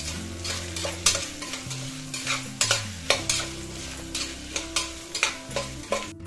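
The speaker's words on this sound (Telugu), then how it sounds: "ఇంకా ఇందులోనే కట్ చేసుకున్నటువంటి క్యారెట్, బంగాళదుంప వేసుకుని ఫ్రై చేసుకుందాం బాగా" Cut carrot and potato fry in a pan for mint rice, a loud sizzle punctuated by rhythmic spatula strokes roughly every half second, close and with no talking.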